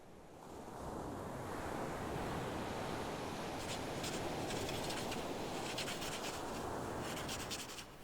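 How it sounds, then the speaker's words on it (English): Ocean waves break and wash onto the shore in a continuous, full surf roar that rises in the first second and holds steady, with faint crackling hiss of foam near the end. "You're not worried about the waves keeping you up?"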